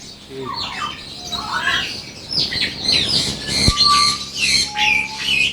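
Fawn Java lovebirds in a cage calling, with shrill chirps, squawks and whistled notes coming thick and overlapping from close by, along with a sharp knock partway through.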